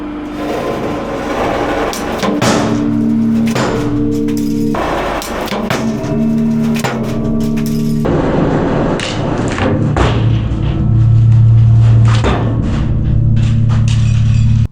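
A 135-ton hydraulic press crushes an object until it bursts. A loud, steady hydraulic drone runs throughout, punctuated by repeated heavy thuds and knocks as the load builds.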